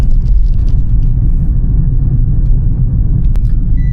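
A vehicle engine rumbling steadily while riding, a loud close drone with road and wind noise throughout and no talk.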